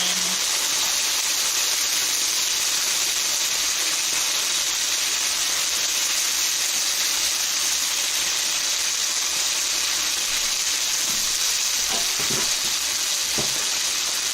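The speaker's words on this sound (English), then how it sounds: "Keep thinking the chicken fat to us. It's sizzling." Steady, even sizzling hiss of barbecue chicken frying in its fat fills the whole stretch, with a few faint clicks and knocks near the end.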